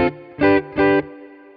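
Guitar played through the Flick reverb effect on a Hothouse DaisySeed DSP pedal: three short, bright, sustained chords in quick succession, each with a soft reverb tail, and the last ringing out quietly.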